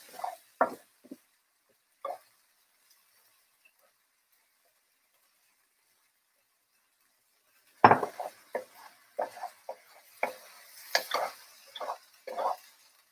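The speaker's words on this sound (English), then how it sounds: "And just saute it for like a few minutes." Sautéing in a home kitchen brings sharp clinks and scrapes of a utensil stirring in a pan, arriving in short bursts at first, then a long quiet gap, then a busier run of close, irregular clatter.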